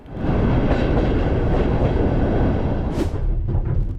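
A huge two-section 2TE11 freight diesel locomotive roars steadily and loudly at close range, with a rising hiss or squeal near the end and no talk.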